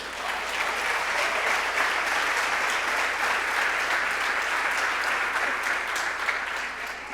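Sustained applause from a large church congregation, dense and even clapping that fills the space without a break.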